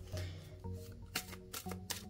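A deck of oracle cards, the Wisdom of the Cailleach deck, is shuffled by hand in quick, soft riffling bursts, faint and close with no talking over it.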